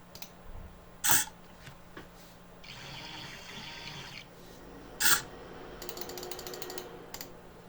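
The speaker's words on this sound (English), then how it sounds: "right now I will also open this one and maybe combine those two to create a better motor" A small motor for an Arduino-based CNC egg-painting machine being taken apart: two sharp plastic snaps stand out, with faint clicks and scraping of small parts between them, close up, with no talk.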